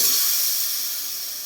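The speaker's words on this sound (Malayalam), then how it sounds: "ഇനി നമുക്ക് പുളിവെള്ളം ഒഴിക്കാം" Tamarind water poured into a hot pan of fried chilli and coriander powders for fish curry, giving a loud, continuous bright hiss of steam that slowly fades over a second and a half.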